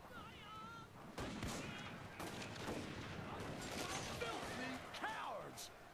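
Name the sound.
riflemen gunfire in video game Total War: Shogun 2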